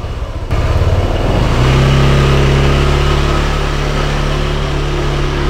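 A Honda Vario 160 ABS scooter engine idles after a sharp start, then its revs climb and hold as it warms up, a steady, loud, close mechanical drone with no one talking.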